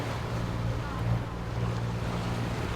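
A sailboat motoring across open sea with no wind, its engine droning in a steady low hum under continuous wash of waves and wind noise, unbroken for the whole stretch.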